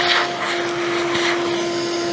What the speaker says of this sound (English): I might actually get the shop vac and suck up some of this grime.